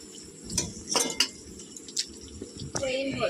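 Plates and dishes clink together as a mother brings a plate, several sharp knocks and rattles close by over a quiet room, with a voice speaking briefly near the end.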